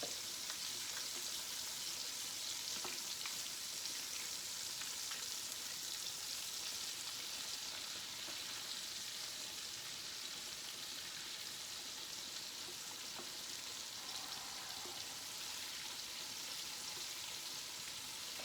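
Chicken sizzles and crackles steadily in hot oil, a dense, even hiss with small pops running throughout, close by and with no talking.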